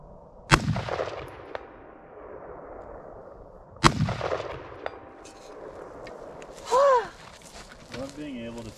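Two loud, sharp gunshots from cheap guns boom out a few seconds apart at an outdoor range, each with a long echoing tail, followed by quieter handling noises and voices.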